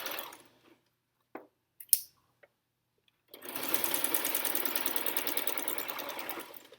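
A sewing machine stitches fabric for a pee pad: a few soft clicks and handling noises, then a fast, even mechanical whirring chatter that runs steadily for several seconds, close and clear.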